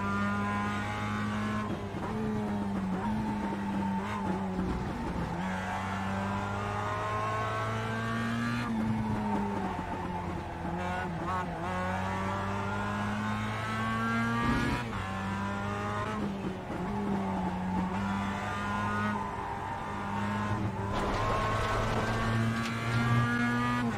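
A race car engine in a racing video game revs and accelerates through repeated gear shifts, its whine climbing and dropping in pitch over a steady loud drone, with brief tire squeals and no talk.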